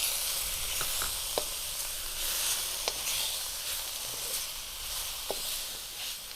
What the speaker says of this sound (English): And after add tofu, fry with spice paste.